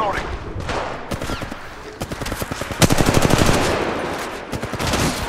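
Rapid automatic gunfire in Apex Legends Mobile, close and loud, firing in quick repeated bursts that overlap with in-game voice lines.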